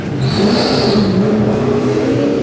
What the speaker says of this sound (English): What they want to do is they want to get that race car in and out of the pits in about 10 seconds